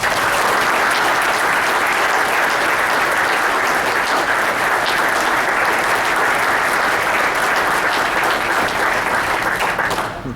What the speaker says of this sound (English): Could everyone please give Rick Hayden a round of applause?